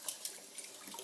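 Water runs from a kitchen tap into a sink during cooking, a soft, close splashing hiss that sounds on its own.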